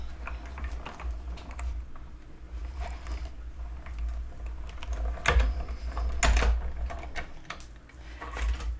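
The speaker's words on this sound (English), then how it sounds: "We've got a die cut machine." A die cut machine cuts cardstock with a steady mechanical clicking and grinding close by, with a couple of sharper knocks near the end.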